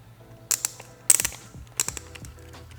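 A ratcheting lock is fitted onto a TST Mech-GTR turn signal on a 2022+ Yamaha XSR900, making three close bursts of quick plastic clicks and ratchet ticks with small handling noises in between.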